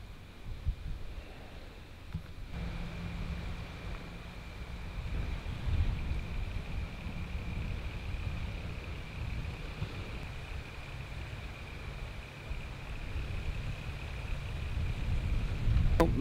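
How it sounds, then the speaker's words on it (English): Steady wind blowing along the shoreline of Lake Burrumbeet, a low continuous rumble with buffeting against the microphone, moderately quiet and unbroken, with no voices. "I, for one, do not like to have a fire when it's windy like this."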